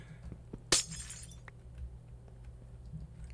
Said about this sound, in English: And I can take out these two pieces of glass.